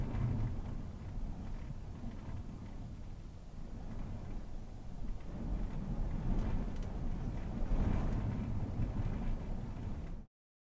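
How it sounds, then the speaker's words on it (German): Steady low rumbling wind buffeting the microphone, loud and continuous throughout before cutting off abruptly at the end. "Kann mal jemand diesen scheiß Wind abstellen?"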